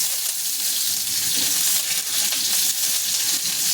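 Chopped onion fries in hot oil in a pan for a curry. A dense, steady sizzle sounds close and fairly loud throughout, with faint stirring scrapes and no talk.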